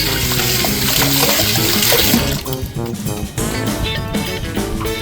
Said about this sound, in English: I like to do a little rinse off my hands